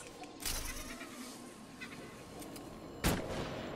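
Sniper gunfire in Batman: Return to Arkham City cracks out in two loud sharp reports, one early and one near the end, over a low game ambience.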